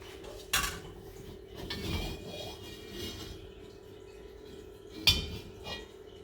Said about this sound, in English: Now I'll put some oil and spread it around the pan.